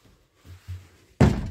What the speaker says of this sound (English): So now, I'm gonna go and close the door.